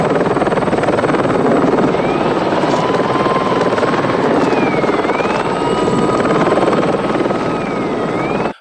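Police helicopters in pursuit during a film stunt, their rotors making a loud, continuous thudding drone close by, with faint whining engine tones sweeping up and down over the steady chop.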